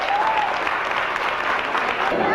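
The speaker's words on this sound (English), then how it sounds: "let's give class of 71 a round of applause" Crowd at a hall of fame induction ceremony applauds steadily for a reunion class, a dense, even wash of clapping throughout.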